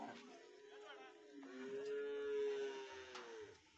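Cattle at a busy cattle market where calves, buffalo calves and buffaloes have been unloaded, one animal giving a long, loud moo in the middle while other lowing and faint market noise carry on around it.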